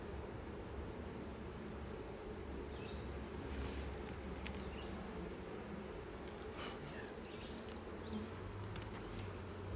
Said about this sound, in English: These bees are hungry